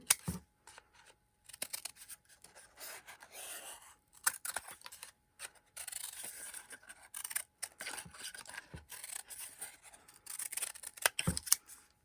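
Scissors snip repeatedly through a cardboard roll, cutting zigzag points into pointy flower petals; short crisp cuts come in quick bursts with brief pauses, close and clear, with no talking.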